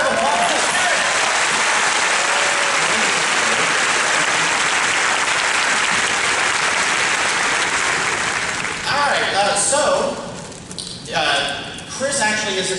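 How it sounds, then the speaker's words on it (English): Audience applause at the D23 Expo 2019 presentation for the Haunted Mansion 50th anniversary: dense, steady clapping from a large crowd that fades out near the end, with speech and scattered voices coming through. "Round of applause."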